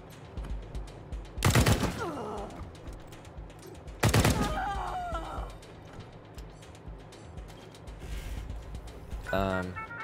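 Gunfire in the video game Wasteland 3 comes as two loud, sharp bursts a few seconds apart, then a smaller crackle near the end, over a busy game soundscape.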